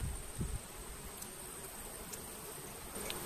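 Honey bees buzzing softly in an open hive with honey supers, no smoke applied, a faint steady drone with a few brief nearby rustles.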